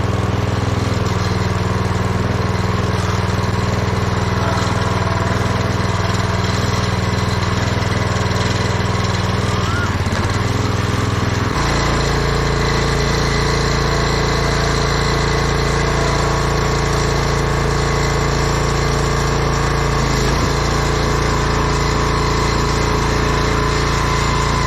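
A tractor engine runs steadily at about 1,000 RPM, driving a hydraulic log splitter through Madrona hardwood, a continuous loud drone that dips and shifts in load near the middle and again later.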